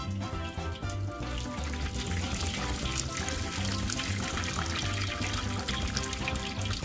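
Soy milk for tofu drains and trickles steadily from a pressed cloth bag, a continuous watery pouring and splashing that stays fairly loud and even throughout.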